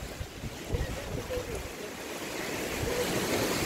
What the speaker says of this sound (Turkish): Ay dalga geliyor, dalga geliyor